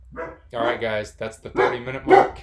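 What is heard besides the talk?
dog barking at people walking by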